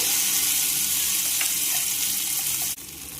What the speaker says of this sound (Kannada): ಎಣ್ಣೆ ಕಾದೈತಿ, ಒಂದು ಅರ್ಧ ಚಮಚೆ ಸಾಸಿವೆ ಹಾಕ್ತಾನು